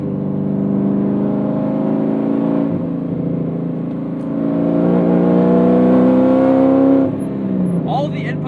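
A 2007 Corvette C6 Z06 engine on the move, a loud steady drone with rising and falling pitch as it pulls through gears, dipping briefly near the middle before climbing again, with a short burst of talk at the end.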